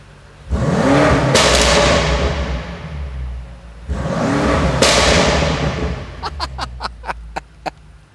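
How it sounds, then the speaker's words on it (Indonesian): A 2021 BMW M5 Competition revs twice in loud, swelling bursts, each ending in a sharp crack, followed by a rapid string of about seven loud exhaust pops and bangs as the throttle is released. "Jadi pada saat ngegas, sebenarnya suaranya tuh biasa aja ya, nggak heboh-heboh amat. Tapi begitu gas dilepas, bledar, itu keras sekali suara ledakannya."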